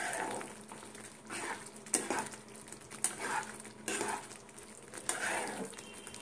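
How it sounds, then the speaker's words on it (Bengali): Semolina is stirred in a pan for upma with a spoon scraping steadily in repeated strokes, each stroke bringing light metallic clinks over a faint background hiss. "কন্টিনিউ এরকম নাড়তে হবে।"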